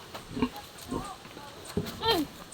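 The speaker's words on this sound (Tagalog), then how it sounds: "Ito, mga piglets, oh." Piglets on a hillside farm give several short grunting oinks at irregular intervals, close and moderately loud, with people talking among them.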